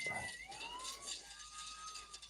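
A wailing ambulance siren from the 1994 arcade shooter Gunbird, a faint electronic tone sweeping up and down with chiptune-like game sounds around it.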